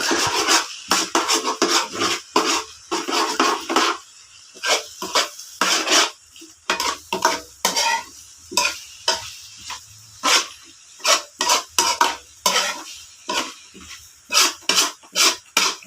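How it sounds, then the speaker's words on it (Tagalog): Bitter gourd (ampalaya) with egg sautéing in a pan, heard as repeated rough scraping strokes of a spatula in an uneven rhythm, loud and close, with short gaps between bursts and no voices. "Ito, nagigisa tayo ng ampalaya."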